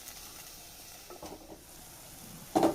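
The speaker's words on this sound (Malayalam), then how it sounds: "തക്കാളി ഇനി നല്ല പോലെ വഴന്ന് സോഫ്റ്റായി വരട്ടെ" Tomatoes and onions sautéing in a pan for beef biryani, a quiet steady sizzle with a few soft stirring scrapes and one louder utensil knock at the end, close up and without voices.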